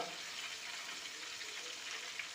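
Chicken pieces deep-frying in oil give off a faint, steady, even sizzle that hisses on without a break for a couple of seconds.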